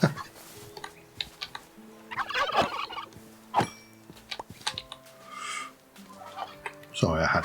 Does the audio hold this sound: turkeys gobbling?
yes